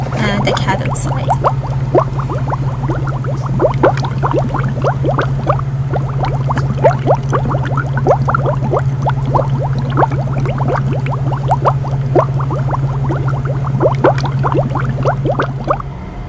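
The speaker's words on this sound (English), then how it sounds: "we see just a very gentle reaction with some bubbles coming out of the cathode side." Gas bubbles rise gently from the cathode side of an electrolysis cell, a dense stream of tiny fizzing pops and crackles over a steady low electrical hum, continuous and close with no talking.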